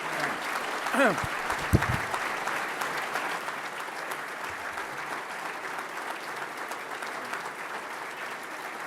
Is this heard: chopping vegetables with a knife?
no